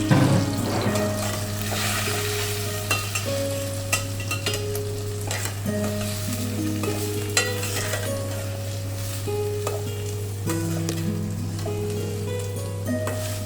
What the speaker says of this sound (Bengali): চালটা বেশ ভালো করে ওপর নিচ করে মা মাখিয়ে নিচ্ছে।